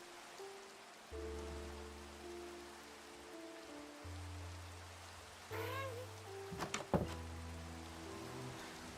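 Steady rain patters softly under low sustained musical tones, with a few brief higher chirps and clicks midway, in the video game Minecraft.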